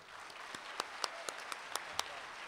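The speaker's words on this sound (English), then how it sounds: "Let's give a warm round of applause, a matador round of applause for the leader of Cal, State Northridge Athletics, our Director of Athletics for CSUN, Dr. Bra" Scattered applause from an audience at a Cal State Northridge athletics campaign presentation: faint, sparse claps at a steady pace, set back in the room against a low background hush.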